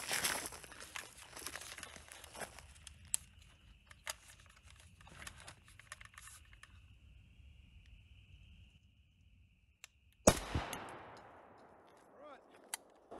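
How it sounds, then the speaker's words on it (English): AK rifle rounds fired at a level 4 body armor plate during a destructive test, several sharp cracks and impacts early on, then a quieter stretch before one loud, close shot near the end. "I'm gonna go for one more AK round."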